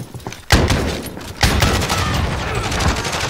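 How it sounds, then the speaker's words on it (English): Incendiary shotgun blasts in Call of Duty: Warzone, two heavy booming shots about a second apart, each followed by a long crackling roar that fills the mix, loud and close. "He got a fire shotgun in that bitch."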